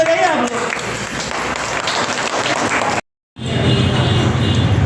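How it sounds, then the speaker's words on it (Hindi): A gathered group of women at a Jan Suraaj International Women's Day event claps in a steady, fairly loud burst, broken by a brief dropout before resuming. "ताली बजाइए आप लोग"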